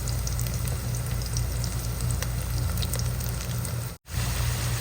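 Garlic, onion and ginger sautéing in a pan for beef intestine adobo, giving a steady, close sizzle with crackling and a low rumbling undertone that cuts out briefly near the end.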